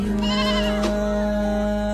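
A young goat kid bleats in a few quavering, wavering calls over a steady low electrical hum, close and fairly loud, at a home in Assam during Bhogali Bihu.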